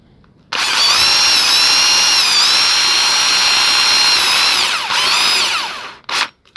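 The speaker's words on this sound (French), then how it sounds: "je vais percer les deux autres" An electric drill drilling holes whines continuously at high speed for several seconds, close and loud, then winds down with a couple of short bursts.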